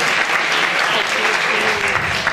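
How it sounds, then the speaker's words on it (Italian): Steady, dense applause from a theatre audience at a drama and musical school recital, a continuous wash of clapping filling the whole stretch at close range. "Grazie, un applauso,"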